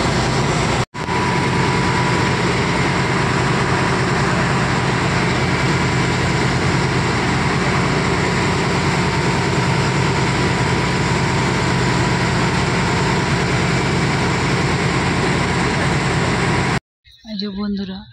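A launch boat's engine drones steadily on the Ganges toward Howrah, a loud, continuous low rumble that holds unbroken before cutting off abruptly near the end.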